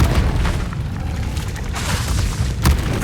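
A Confringo blasting spell bursts in Hogwarts Legacy, giving a loud, rumbling boom with a dense crackling wash and a sharper burst near the end.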